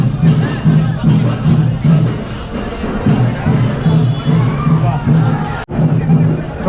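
A huge crowd of film fans outside Santosh theatre fills the air with dense, loud hubbub: many overlapping voices chatter and shout nearby in a constant roar, with brief swells of excitement.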